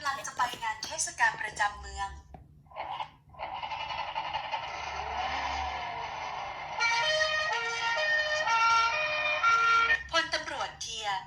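A wailing police vehicle siren rises and falls steadily for several seconds, with people talking over it at the start and end.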